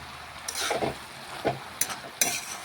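Vegetarian shredded cabbage cooking without added water in a pan, stirred in a few separate scraping bursts over a steady low sizzle, close and alone with no voices.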